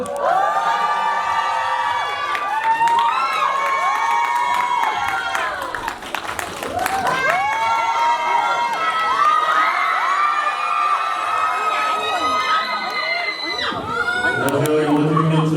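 A crowd at a movie stage greeting in a Gimpo Airport cinema roars with cheers and shrieks as actors and the director walk in, loud and sustained throughout with high-pitched screams layered over clapping.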